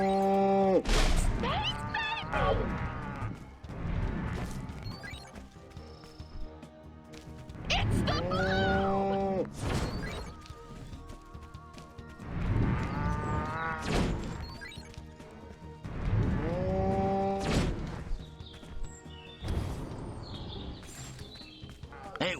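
Cows low repeatedly in the Destroy All Humans video game, several drawn-out moos rising over busy game sound effects and music, with occasional crashes and a voice speaking between them.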